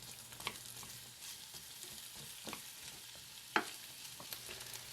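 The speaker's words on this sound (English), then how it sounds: "Now add your onions and stir them frequently for 5 minutes." Carrots and onions sauté in a pan for lentil soup, a faint, steady sizzle broken by a few soft clicks and scrapes of stirring.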